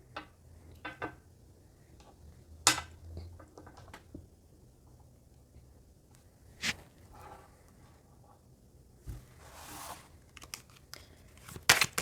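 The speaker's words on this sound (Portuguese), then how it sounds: "nesse tipo de tiragem eu tenho que embaralhar várias vezes" Tarot cards are shuffled with faint scattered riffles, flicks and papery rustles spread over several seconds, quiet and close, without speech.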